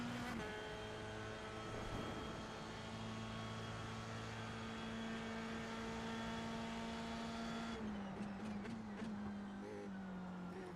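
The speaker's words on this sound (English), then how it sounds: "As the car goes wide up here" Formula race car engine in a racing video game, a steady high-pitched whine held for several seconds that then drops in pitch as the car slows, loud and continuous, with faint other cars around it.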